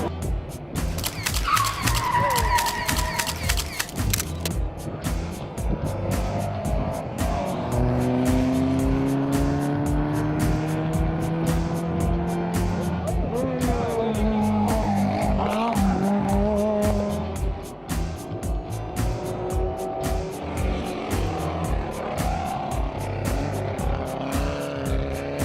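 Powerking Golf race car driving on a race track, its engine loud and continuous with rising and falling revs as it accelerates and shifts, plus a brief tire squeal near the start.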